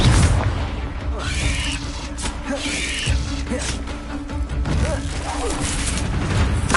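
Booming Confringo blasting-spell explosions in Hogwarts Legacy, heavy low rumbles and crashes recurring over a dense game soundscape with music, loud and close throughout.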